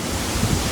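Strong wind at sea aboard a boat: a brief, steady low roar of gusting air buffeting the microphone, with a couple of slightly louder surges and no voices.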